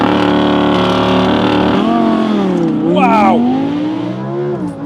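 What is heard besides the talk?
Audi R8 V10+ launch control acceleration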